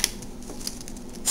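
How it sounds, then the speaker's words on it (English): Scissors snip through miniature doll material, trimming an overly long back piece; a few faint, quick cuts at the start, middle and end over a quiet background. "the back, which is way too long, I will go ahead and trim"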